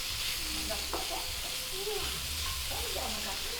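Sausage and bacon fry in a paella pan while being sautéed for arroz carreteiro, making a steady, dense sizzle and crackle with occasional stirring scrapes. Someone talks faintly underneath.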